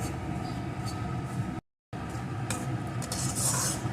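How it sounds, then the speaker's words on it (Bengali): Semolina is lightly fried and stirred in a pan, with soft scraping and clinking from the utensil and a faint sizzle. The sound is close and steady, broken by a brief silent gap. "এইভাবে নেড়ে নেড়ে সামান্য একটু ভেজে নেব"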